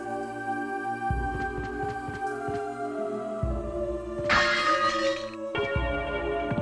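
Church bells toll in the Castlevania: Symphony of the Night video game. Several resonant, sustained strikes ring across the game's ambient music, with no talking.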